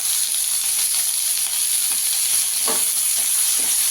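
Garlic, chilli and whole spices fry lightly in hot oil, a loud, steady, close hiss of sizzling with a few stirring scrapes near the end.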